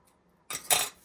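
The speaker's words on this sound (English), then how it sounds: "I just take my scissors from that point and get real close and just cut as close as I can" Scissors snip through a paper napkin right along the edges of a wooden earring blank, making two quick, close, crisp cuts after a moment of quiet.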